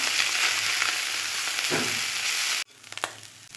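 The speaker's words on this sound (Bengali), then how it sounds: "চুনো মাছটা এরকমভাবেই ভেজে নিতে হবে দেখো মরমরে করে ভেজে নিতে হবে" Small chuno fish frying crisp in a pan, a loud steady sizzle that stops abruptly near the end, followed by a few light scrapes and knocks.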